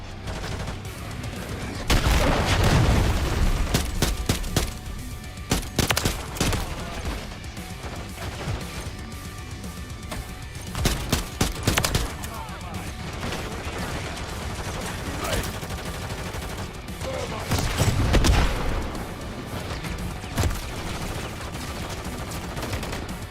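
Cruise missile explosions and gunfire in a military shooter video game: heavy booming blasts land near the start and again later, with dense bursts of rapid fire and crashes in between.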